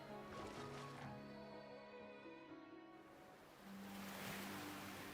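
Rowing a boat at sea in the video game Ys X: Nordics brings a faint, steady wash of waves and surf with soft water movement, blended with game music tones and no talking.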